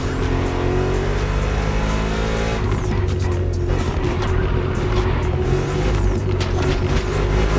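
A BMW M CS drives in The Crew Motorfest, its engine loud and close as it revs up through rising tones, shifts gear, then roars steadily with tire noise and squeal.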